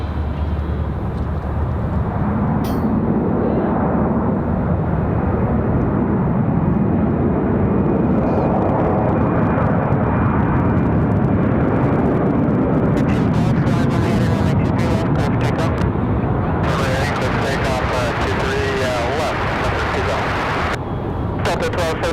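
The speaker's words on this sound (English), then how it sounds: "Got the reversers out early on this one." An airliner landing at Raleigh-Durham International with thrust reversers deployed, a loud sustained roar that swells and fades, with crackling bursts near the end.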